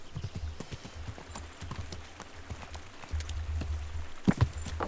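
Horse hooves in Kingdom Come Deliverance clip-clop in a steady walking rhythm on hard ground, moderately close, with a brief snort or whinny near the end and no talking.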